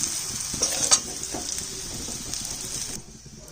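A loud, even sizzle rises from spiny gourd (kakrol) frying in a pan. A couple of spatula scrapes and taps sound near the start, and the sizzle drops away abruptly just before the end.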